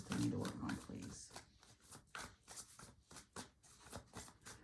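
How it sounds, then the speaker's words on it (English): Tarot cards being shuffled up close, a steady run of soft riffling and flicking bursts with a brief heavier rustle at the start, no talking over it. "I'm just over here shuffling."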